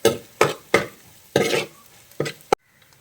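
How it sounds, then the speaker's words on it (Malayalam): Ginger and garlic fry in a pan for Kottayam-style duck mappas. A spatula stirs and scrapes in several close, loud bursts over a soft sizzle, and the clip ends in near silence. "അപ്പോൾ അത് ഇഞ്ചി വെളുത്തുള്ളിയൊക്കെ മൂത്ത് നിറമൊക്കെ മാറി വന്നിട്ടുണ്ട്."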